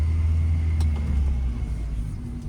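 A car on a driving-lesson road gets a low, steady engine rumble after a shift into second gear, close and even with a slight easing toward the end. No one speaks over it.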